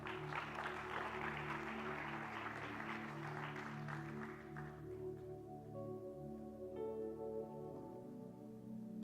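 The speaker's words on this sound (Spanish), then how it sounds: "Vamos a darle un aplauso a ellos." Audience applause fills a church, a dense steady clapping that carries for about five seconds before thinning out under a sustained organ-like musical tone that rings on alone.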